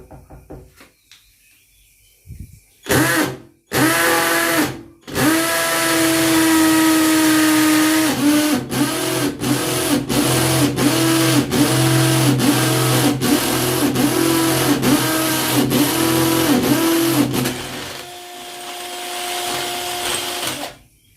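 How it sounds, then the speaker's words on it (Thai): A Bonchi cordless drill starts in short bursts, then runs steadily with a rhythmic hammering chatter as it bores into concrete, up close and loud. "มาทำการทดสอบนะครับ เจ้าตัวสว่านตัวนี้นะครับ ว่าจะสามารถเจาะปูนได้ไหมนะครับ"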